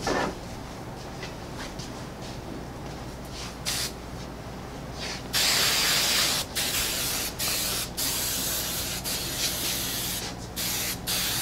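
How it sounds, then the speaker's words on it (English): A barber gives hair a few quick spritzes from a spray bottle during a haircut, sharp hissing bursts heard close up in a quiet room, separated by short gaps and soft rustling. "so we'll just do a little spray"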